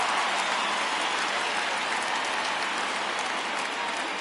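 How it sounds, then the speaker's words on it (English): A stadium crowd in the MLB 19 baseball video game cheers steadily at a 3-2 count, a dense, continuous wash of noise with no pauses. "Crowd gets up for the 3-2"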